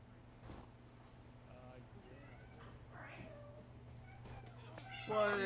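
Cats screaming and meowing in a video game, with a steady electronic hum beneath, a few brief yowls mid-clip and a louder, harsher cat scream bursting in at the end.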